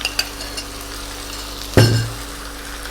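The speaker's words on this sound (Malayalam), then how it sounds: "നമുക്ക് നന്നായിട്ടൊന്ന് ഇളക്കി കൊടുക്കാം" Chicken pieces dropped into a hot pan for Kerala-style pepper chicken, a sudden loud sizzle that fades over about half a second, with faint clinks of a spoon stirring before it.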